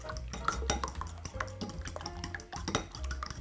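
Eggs being beaten with a spoonful of sesame oil in a bowl, giving quick irregular clinks and scrapes of utensil against the dish, fairly close and moderately loud with no talk.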